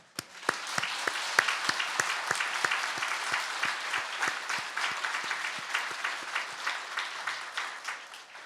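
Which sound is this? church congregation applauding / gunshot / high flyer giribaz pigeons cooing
church congregation applauding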